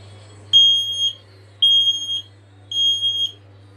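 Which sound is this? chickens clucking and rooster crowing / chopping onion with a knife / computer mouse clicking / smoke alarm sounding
smoke alarm sounding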